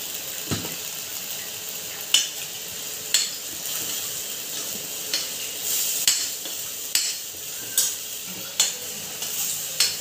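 Spice masala roasting in a pan for a spicy Maharashtrian-style egg curry with green chillies and fresh masala, a steady soft sizzle broken by periodic scraping stirs, fairly close and without talk.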